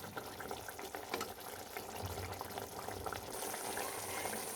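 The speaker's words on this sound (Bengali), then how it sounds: "এবার ঝোলটা ফুটে গেছে। এবার মাছগুলো দিয়ে দেব।" Fish curry broth bubbling and simmering in a pan while Bata fish cooks, a steady close seething hiss with soft popping, even and continuous throughout.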